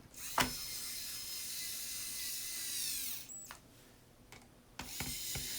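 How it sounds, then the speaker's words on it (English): A small battery-powered screwdriver whirs in short bursts as it drives screws into a Dell Inspiron 15 5378 laptop. The bursts are quiet and close, separated by brief clicks and handling noises, and no one speaks. "Get my handy dandy little screwdriver here."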